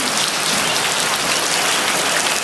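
Rain falling in a garden full of potted plants and buckets set out to catch water, a dense steady hiss of drops close by with no voices.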